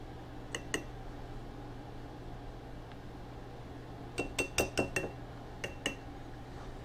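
Spoon clinks against glass canning jars as garlic is added while pickling eggs, two light taps early, then a quick cluster of sharp clinks and a few more, over a quiet kitchen hum.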